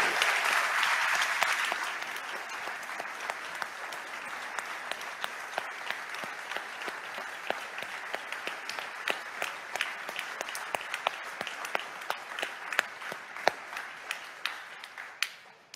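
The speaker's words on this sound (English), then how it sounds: "we got to give him a double round of applause to Deacon Frank" A church congregation gives warm, continuous applause for a deacon who is a doctor. A loud swell at first settles into steady clapping with distinct individual claps standing out, lasting about fifteen seconds.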